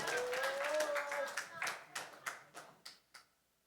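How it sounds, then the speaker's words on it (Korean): Brief clapping at a church conference gathering, beginning under a voice and then thinning into a few scattered, fading claps. "박수"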